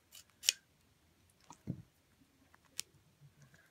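Scissors snip through a folded paracord strip, giving a few sharp, quiet cuts with soft handling clicks in between, close up in a quiet room.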